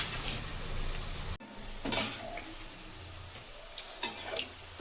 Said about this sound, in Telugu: ఆనియన్ ఫ్రై చేసుకోవాలి